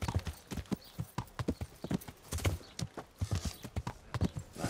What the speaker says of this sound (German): Ein Pferd, was bei euch durch den Vorgarten galoppiert ist?